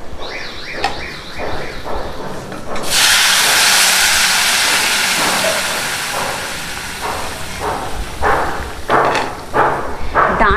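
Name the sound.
water added to pan of fried aubergine, sizzling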